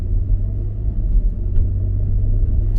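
Steady low road rumble and engine hum from inside a fire-damaged 2013 Chevy Equinox cruising smoothly along the road, a constant muffled drone without speech.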